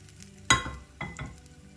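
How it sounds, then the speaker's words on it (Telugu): Fried curry-leaf tempering is tipped into a bowl of chutney and mixed in, a sudden close splash and sizzle followed by two softer stirring scrapes and clinks, with no voices. "ఈ వేయించుకున్న తాలింపుని పచ్చడిలో వేసి కలుపుకోవాలి."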